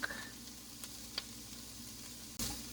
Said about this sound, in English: We're just going to cook the garlic until it's fragrant.